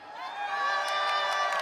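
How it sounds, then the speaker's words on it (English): A crowd at an NAIC Pokemon Unite watch party cheers and whoops, swelling into sustained loud cheering with a few sharp shouts on top. "you can hear the cheering sections out there"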